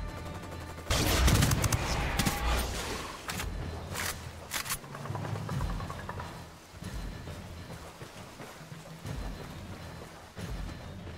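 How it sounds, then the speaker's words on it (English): Gunfire in the video game Ghost Recon Wildlands crackles in irregular bursts of sharp shots, dense at first and then sparser, over a hissing, rain-like background at moderate volume. "opening fire."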